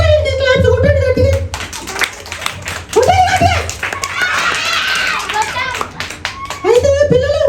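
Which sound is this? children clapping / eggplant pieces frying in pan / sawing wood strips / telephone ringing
children clapping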